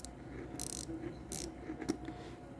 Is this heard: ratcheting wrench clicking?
yes